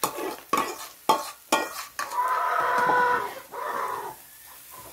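A spoon scrapes and stirs corn mungunzá made with Brazil nut milk inside a cooking pot, giving several sharp scraping strokes followed by a longer swishing stir, close and clear with no talking.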